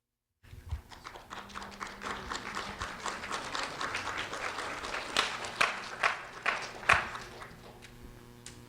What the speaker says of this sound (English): So a round of applause for Leila Marie Uriostega and Alisa Ruiz